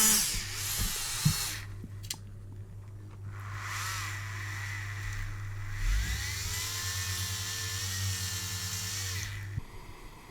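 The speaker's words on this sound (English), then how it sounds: "I'm just going to drill through first of all" A power drill whirs steadily as it bores through a part of a 1/32 scale Avro Lancaster model kit, positioning a landing-gear leg on the rear bulkhead; close, continuous, with a brief stop and restart.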